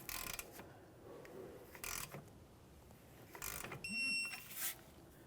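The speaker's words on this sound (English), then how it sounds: "With that bottomed out, we'll torque it to 33 foot-pounds." A torque wrench tightens the outer tie rod end mounting nut on a 1994-1997 Honda Accord, giving a few quiet ratcheting clicks and a short click-like signal near the end, faint and close.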